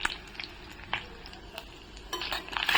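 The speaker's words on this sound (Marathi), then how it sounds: "छान अशी आहे ना आपली फोडणी तडतडलेली आहे" Curry leaves with garlic and ginger crackling in hot oil for a Marathi shev bhaji tempering, with sharp intermittent pops and sizzles over a soft frying hiss, growing busier toward the end.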